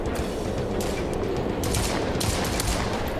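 Rapid gunfire in a VR shooter, heard as continuous loud machine-gun fusillades with steady crackling bursts throughout and no talk.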